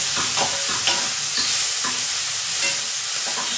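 Tomato and green chili frying and being stirred with ivy gourd in a pan for a simple poriyal, a steady close sizzle with scraping stir strokes throughout and no talking.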